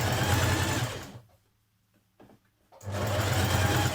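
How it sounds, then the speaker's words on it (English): A sewing machine top-stitches a band onto a jersey dress, running in a loud, close, steady whir, pausing briefly in the middle, then starting up again, with no talk. "top stitch down onto the dress a couple of millimetres away from the band"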